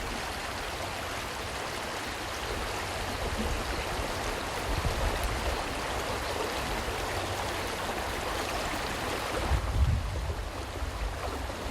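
Steady rushing flow of the Sicheoncheon stream, a small creek off the slopes of Gyeyangsan, heard close as a continuous broadband wash with a brief surge near the end and no voices.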